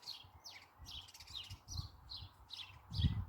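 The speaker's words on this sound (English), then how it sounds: "That's the house sparrows, and that's them talking to each other." House sparrows chirping in a garden, a series of quick, fairly faint repeated tweets and calls over low background rumble and occasional soft knocks.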